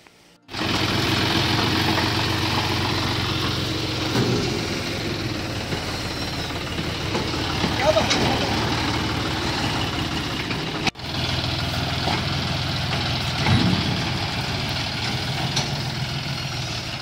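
A John Deere 5036 super turbo tractor engine runs at a steady idle while the tractor backs up, with a continuous low mechanical drone and clatter that holds throughout, briefly dipping once near the middle.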